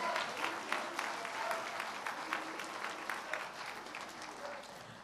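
Steady applause from an audience at a university graduation ceremony, dense clapping that holds evenly throughout at moderate distance with no talk over it.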